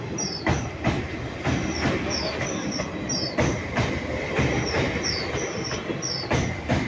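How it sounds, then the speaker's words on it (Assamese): Train cars rolling past on a railway line, a steady broadband rumble with repeated rhythmic wheel clacks over the rail joints and faint high squeals, close and loud throughout. "আমি আহি পালোঁ আৰু ট্ৰেইন যাই আছে"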